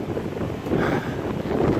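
Low, steady rumble of wind buffeting the microphone, continuous and fairly loud for a couple of seconds.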